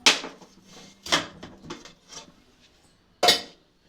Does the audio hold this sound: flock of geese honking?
no